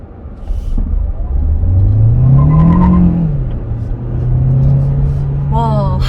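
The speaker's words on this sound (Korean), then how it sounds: "확실히 이게 하이브리드다 보니까 초반 가속력이 엄청 좋네요." Kia Sportage Hybrid pulling away under acceleration, a smooth rising whir and engine tone climbing then settling into a steady hum, heard from inside the car with occasional faint tones.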